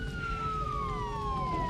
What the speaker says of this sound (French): Et voilà Bruno Delinger sur Church Street, au milieu des camions de pompiers, des voitures de police, des ambulances garées dans tous les sens, des gyrophares partout, et les sirènes